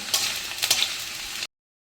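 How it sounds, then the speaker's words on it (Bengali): Potato pieces browning in hot mustard oil give a close, steady sizzle with a few louder crackling bursts from stirring before cutting off abruptly. "আলুগুলোকে লাল লাল করে ভেজে নেবো"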